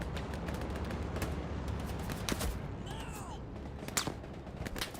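Rapid bursts of grease gun fire in a multiplayer war video game, a string of sharp cracks and shots spread across the moment, mixed with other distant gunfire and battle noise.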